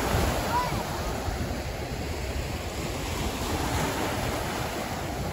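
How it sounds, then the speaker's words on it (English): Ocean surf rolling in on Holden Beach, North Carolina, with a constant roar, broadband wash of water and some wind buffeting the microphone, no voices. "Waves are coming in because of old Baldy coming in."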